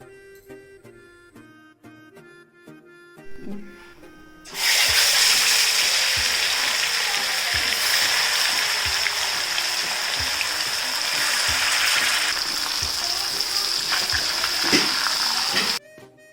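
A premixed chili spice mixture goes into a pan of frying fish, where a quiet stretch suddenly gives way to loud, sustained close sizzling and bubbling that lasts several seconds before cutting off.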